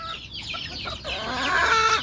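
Desi chickens cluck on a small farm, a few close, overlapping clucks and squawks building into a louder, drawn-out call.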